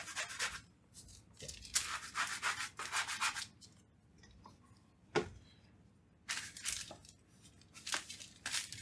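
Dough scraper working whole wheat bread dough on a counter, producing close scraping and rubbing bursts in irregular strokes separated by short quiet gaps.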